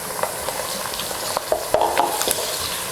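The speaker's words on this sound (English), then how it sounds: "Next, I'm going to put my diced salted beef." Diced salted beef sizzles with onions in a hot pan for spicy oil rice, a steady frying hiss broken by scraping stirs of a utensil against the pan.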